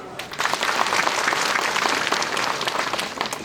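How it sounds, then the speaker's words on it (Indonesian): Audience at a church gathering in Korupun, West Papua, breaks into loud, dense applause that swells quickly and holds steady, with no voices over it. "Beri tepuk tangan."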